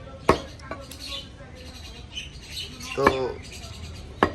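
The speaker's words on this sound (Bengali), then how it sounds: "মানে গোস্ত কাটার ভাব তো দেখতে পাচ্ছেন" A butcher chopping buffalo beef, with a few sharp, loud blade strikes spaced irregularly against a block, amid background chatter and a short spoken word.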